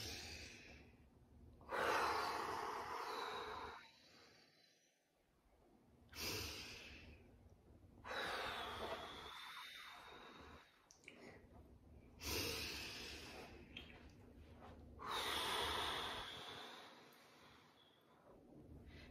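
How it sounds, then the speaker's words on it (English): A slow series of deep breaths in and out, each long airy inhale and exhale repeating at a calm, even pace close to the microphone during a children's circle-time exercise. "We're going to breathe in and out like a butterfly."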